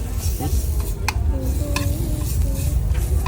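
Steady, loud sizzling of eggs frying in a hot pan over a gas burner, crackling continuously with occasional scraping of a utensil nearby.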